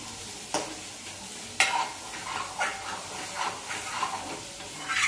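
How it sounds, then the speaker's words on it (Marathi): A spoon stirs a vegetable dish with masala in a pan over a low flame, giving a soft continuous sizzle broken by repeated scraping strokes at an uneven rhythm, close by with no one talking. "हलवत राहायचं बारीक गॅसवर."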